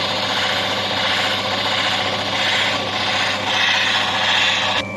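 A new lapidary machine runs its wheels against an Andamooka opal, giving a continuous loud whirring, grinding hum with slight swells in intensity, heard alone at close range.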